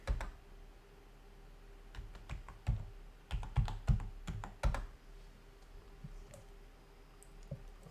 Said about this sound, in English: I will type in the IP address of my server, and click open